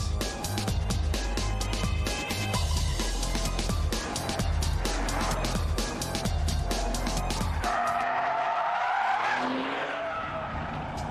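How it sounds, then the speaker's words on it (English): A Porsche 911 GT2 sports car is driven fast. Its engine roars loud and close with rapid rhythmic pulses and tyre noise, then it eases off and fades toward the end. "0 to 60 in just 4 seconds and 195 miles an hour make this the fastest 911 currently available."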